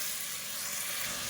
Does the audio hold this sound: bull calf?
no